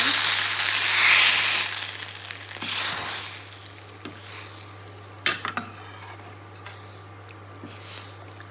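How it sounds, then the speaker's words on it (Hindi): Hot ghee with cumin and garlic crackles and sizzles loudly in a pan as dal is tempered, the hiss fading over a few seconds into scattered pops and clinks of a utensil. "अब हम लगा रहे हैं इसमें घी का तड़का"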